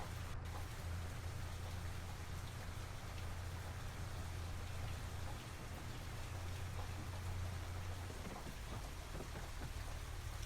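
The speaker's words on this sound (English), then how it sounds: "Possibly the rain is easing?" Steady, dense rain falls in the farming video game Farming Simulator 25, a continuous wet hiss with a low rumble underneath and no talking.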